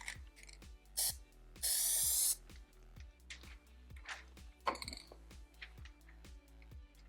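Plasti Dip aerosol can fitted with a new dip nozzle, giving short hissing spray bursts, one long steady blast in the middle, against a background of rhythmic clicking and faint mechanical ticks.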